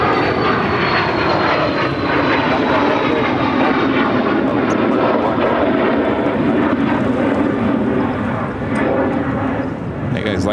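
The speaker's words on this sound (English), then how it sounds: "This is a private jet headed to Amarillo. It's a Cessna" A Cessna 525C Citation private jet roars at Phoenix airport, a loud, steady engine whine and rumble with a slowly falling high tone as it passes nearby, continuous throughout.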